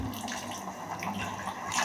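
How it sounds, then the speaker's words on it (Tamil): Water is poured into a cooking pot to rinse it while sambar is being made in a home kitchen. The pour is a short, close, steady splashing trickle, with no voices. "இதில் வந்து கொஞ்சம் தண்ணி ஊற்றி கழுவி சும்மா வேகிறதுக்காக."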